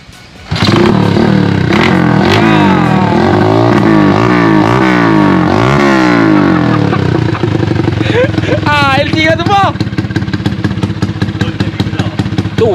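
A motorcycle engine, likely a Yamaha LC135, idles loudly and revs up and down repeatedly, then settles into a steady clattering run, with a brief squeal partway through.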